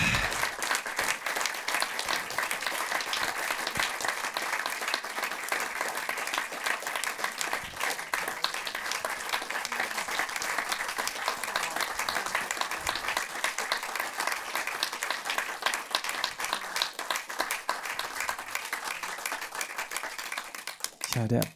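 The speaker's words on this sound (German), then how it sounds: "Ja, bitte nochmal großen Applaus." Audience applause at a film talk event, dense and steady clapping from a crowd held at an even level for the whole stretch, with no voices breaking through.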